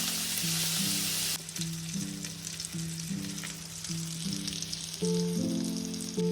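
Asparagus sizzling in butter with thyme and garlic in a hot pan, a loud, close, continuous frying hiss that swells at the start, with faint stirring and a tonal musical backing throughout.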